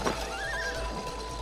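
A horse in the video game It Takes Two gives a clear, fairly close neigh with a rising and falling whinny, heard alone over a low game background.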